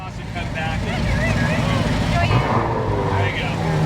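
A Ferrari F12 TDF V12 engine in race mode rumbles loudly and steadily close by at a car show, its low roar rising slightly as it revs, with wind buffeting the microphone.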